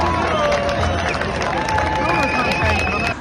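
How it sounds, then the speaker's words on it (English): A large protest crowd gathers outside a conference centre in Dublin, loud and close, with a roaring babble of voices, scattered shouts, whistles and claps all around. "The crowd is massive at the minute"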